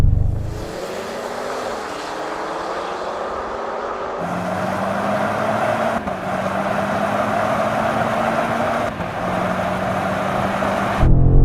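BMW M5, Audi RS7 and AMG GT 4 Door pulling hard from 30 mph in third gear in sporty settings, a loud, rising engine roar with stepped pitch climbs, heard from close by with no talk.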